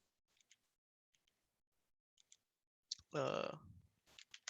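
Typing on a computer keyboard, a few sparse light clicks in short clusters, faint and close, followed by a brief burst of speech.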